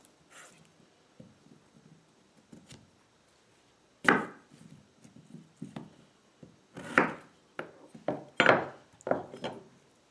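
A knife cuts a head of puntarelle chicory into quarters on a board, giving a handful of sharp, crisp chops with quiet rustling and handling in between.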